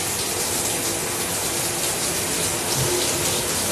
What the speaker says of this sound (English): So first I'm just gonna start the water